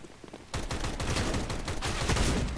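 Rapid bursts of gunfire in the video game CS:GO, a sudden loud barrage of overlapping shots that starts after a quiet half-second and keeps going dense and close to the end.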